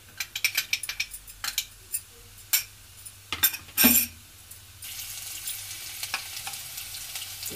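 Asafoetida dropped into hot mustard oil in a pan while cooking palak paneer gives a burst of sharp crackles and spits, then settles into a steady, close, moderately loud sizzle, with no talking.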